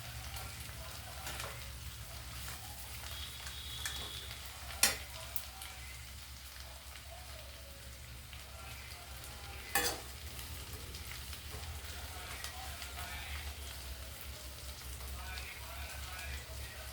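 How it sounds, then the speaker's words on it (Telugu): Ingredients for kottimeera tomato chutney are stir-fried in a pan, giving a soft continuous sizzle with a couple of sharp clinks from the spatula and faint talk in the background. "ఎక్కడ మనం చెయ్యి వదలకుండా వేగించుకోవాలి."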